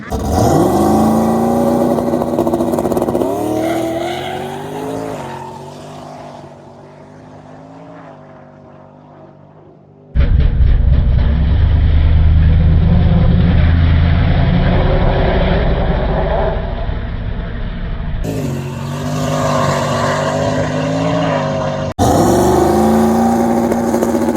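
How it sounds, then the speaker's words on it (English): Drag race cars at a no prep event roar past, loud engines climbing in pitch through hard acceleration, fading, then returning in several abrupt segments of engine noise. "The car seemed to be picking up a little bit of wheel speed."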